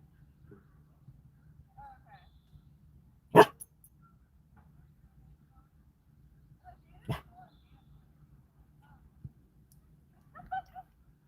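A dog gives a few short, separate barks with soft whimpers in between, near and fairly loud, over a quiet low hum.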